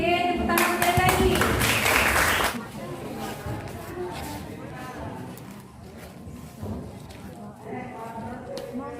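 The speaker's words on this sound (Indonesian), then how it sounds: "tepuk tangan sekali lagi" A group claps hands together during a positive-culture training session, a dense burst of about two seconds, after which voices talk over a quieter room.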